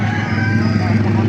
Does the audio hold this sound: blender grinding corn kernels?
no